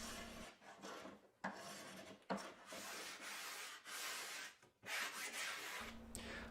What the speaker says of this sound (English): I then smoothed and faired the curve of the templates at the bench using a spoke shave and a sanding block.